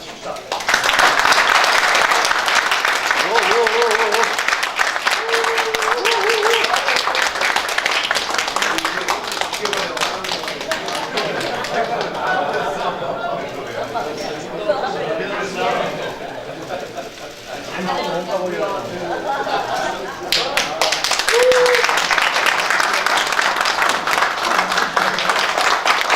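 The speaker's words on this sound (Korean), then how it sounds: "박수 한번 칩시다" Crowd applause at a Democratic Peace Party central steering committee meeting, loud and dense at the start and again near the end, with talking in the room filling the middle stretch.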